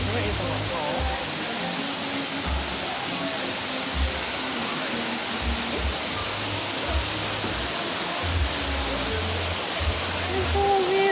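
Annandale Waterfall in Grenada pours as a steady broadband rush throughout, with people talking in the foreground over the constant water noise.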